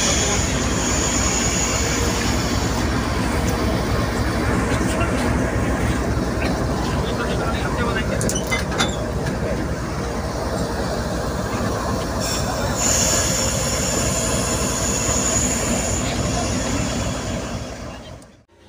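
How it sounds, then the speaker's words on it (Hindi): Sir Syed Express train at a station as the engine couples to its carriages, with steady rumbling rail noise, metallic squeals and clanks throughout, fading out at the end. "तो बिल्कुल जो है ना ये कपल हो रहा है"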